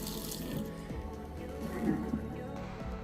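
Water runs from the faucet of a SUPLAUD tankless reverse osmosis system, a steady close hiss and splash of filling flow with a slight swell midway, alone without talk.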